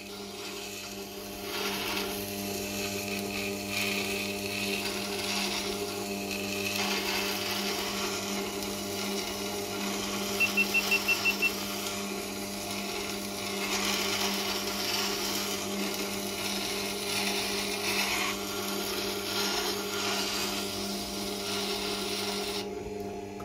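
A gouge for woodworking is sharpened on a water-cooled grinding wheel, giving a steady grinding and rasping hum with a constant motor drone throughout and brief scraping pulses in the middle.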